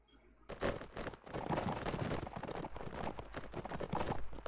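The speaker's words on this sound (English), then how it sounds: "Yup, they're on horseback, alright." Horses' hooves clip-clop steadily in a video game set on the 1862 plains, riders on horseback; dense, continuous trotting fills the scene after a short quiet start, with no talk over it.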